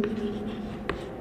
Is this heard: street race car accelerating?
no